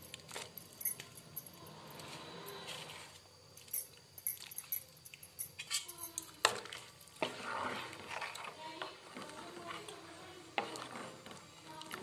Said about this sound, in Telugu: బెల్లం కరగాలి, కొద్దిసేపు ఉడకాలండి. ఇది చూడండి ఉడుకుతుంది